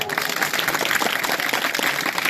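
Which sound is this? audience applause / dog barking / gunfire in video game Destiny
audience applause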